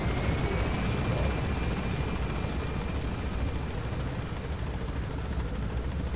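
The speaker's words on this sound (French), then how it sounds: "T'as entendu l'hélico, tu dis ah, s'il me voit." In Metal Gear Solid V, a helicopter drones steadily with a dense, unbroken rotor roar that holds at a constant loud level throughout, and no speech is heard.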